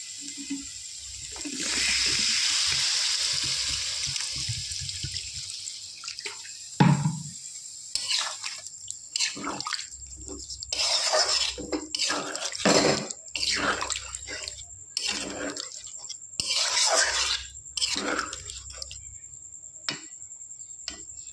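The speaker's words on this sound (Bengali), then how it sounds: "এবার আমি দিয়ে দেবো পরিমাণ মতো জল।" Water is poured into a pan of fried spices and oil, making a steady gushing splash at first, followed by uneven bubbling, hissing and splattering bursts that come and go.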